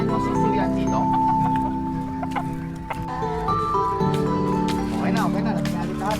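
Chickens and chicks cluck and cheep around a simple chicken coop, close and continuous, while a person talks over them throughout.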